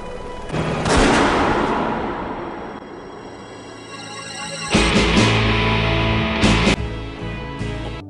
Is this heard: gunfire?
yes